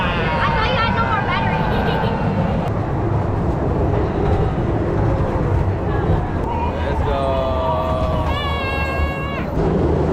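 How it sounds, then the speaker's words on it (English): A kiddie train ride at a fun park in Malang, Indonesia rumbles along steadily, with squealing wheels or a whistle sounding in short high bursts. Someone talks over it. "I'm gonna try the kiddie train here."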